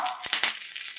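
Tempering of mustard seeds, cumin, dried chillies and curry leaves in ghee or butter crackles in a pan, a dense close sizzle broken by a few sharp pops.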